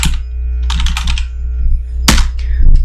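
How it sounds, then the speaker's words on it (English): Clicky keystrokes tapped in a few quick bursts with short pauses between them, fairly close and clear over a low steady hum. "I'm typing in."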